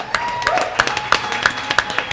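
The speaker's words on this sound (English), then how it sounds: "Can we get a round of applause for Joseph Conklin?" Audience at a live comedy festival show claps together, with a steady patter of hands and a few sharper, rhythmic claps standing out near the front, some voices faintly mixed in.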